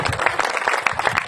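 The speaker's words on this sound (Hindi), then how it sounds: "दोनों हाथ उठा करके नरेंद्र मोदी के लिए एक बार जोरदार ताली" Crowd at a political rally bursting into dense, continuous applause, many hands clapping together in a loud, steady roar with no pauses across the short stretch.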